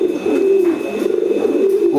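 A pigeon coos close by, a low throaty rolling call repeated a couple of times over about two seconds, loud and clear against faint background noise.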